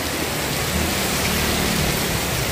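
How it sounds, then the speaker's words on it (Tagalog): Heavy rain pours down during a storm, a loud, dense, unbroken hiss that stays steady and close throughout, with no voices. "Hindi namin nalintana ang lakas ng ulan na ito."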